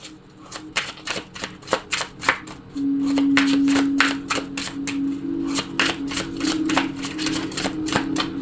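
Oracle cards being shuffled by hand: a quick series of crisp riffling snaps and slaps at an irregular pace, with a brief louder stretch of continuous shuffling partway through, close and clear with no talking.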